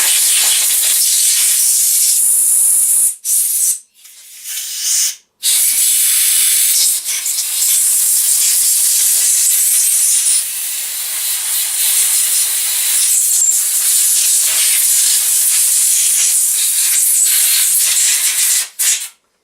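Compressed air blasts hard through a 1957 Evinrude 3 horsepower outboard carburetor being cleaned with carb cleaner, a loud steady hiss that runs for most of the stretch, broken by a few brief pauses where the nozzle is released.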